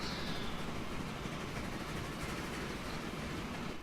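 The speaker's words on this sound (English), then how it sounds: "Those poor people are gonna see a freight train just going right through their station." A freight train rolls through a station in Transport Fever, a steady low rumble and rushing hiss with faint rail clatter that holds at an even, moderate level for a few seconds and has no talk over it.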